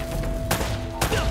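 Two sharp bursts of AK assault rifle fire in the Uncharted video game, about half a second apart, close and loud over a steady hum of game background noise.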